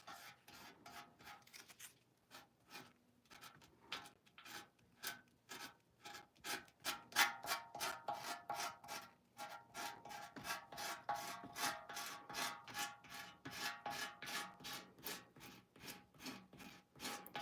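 The edge of an old metal milk can is sanded by hand in quick, rhythmic rasping strokes, close and fairly quiet. Brief pauses break up a steady scraping pattern.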